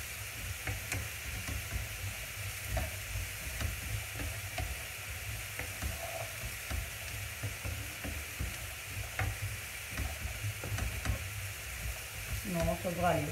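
Courgettes fry and sizzle in a pan for a green vegetable side dish, a continuous close hiss broken by stirring scrapes, with a faint voice briefly at the end.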